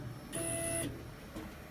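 A cutting machine fitted with a blue 45° cutting head runs a calibration cut, giving a short high whine of motor and carriage movement for about half a second, followed by a faint brief tick.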